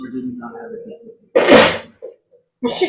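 A single loud sneeze bursts out mid-conversation at a tabletop role-playing game session, with people talking before and after it.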